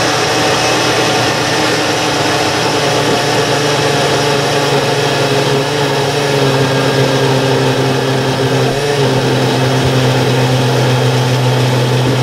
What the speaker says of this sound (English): this blender is not working very well, it seems that we have too thick a mixture for it to work